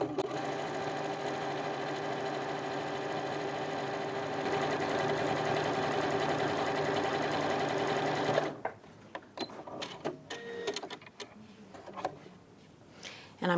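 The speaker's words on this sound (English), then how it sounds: "I'm going to finish top stitching the handles" A sewing machine top-stitches the handles of a fabric tote bag, a steady close whirring that speeds up slightly partway, then stops and gives way to scattered handling clicks and rustles of fabric.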